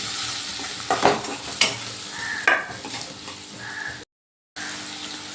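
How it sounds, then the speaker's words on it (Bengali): Chopped onion and crushed garlic sizzle in hot oil, a close steady frying hiss broken by a few sharp spatula scrapes and stirs, with a brief gap of silence. "এবার একটু ভালো করে পেঁয়াজ রসুনটা ভেজে নেব"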